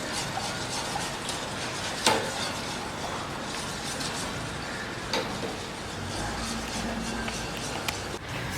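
Sugar is stirred in a pan over low heat at a cooking class in Bangkok, a soft continuous scraping with occasional light clicks of the utensil against the pan, amid quiet room noise.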